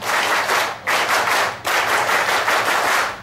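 An audience at a university public lecture claps rapidly in unison, a loud, dense run of hand claps broken by two brief pauses, with no talking.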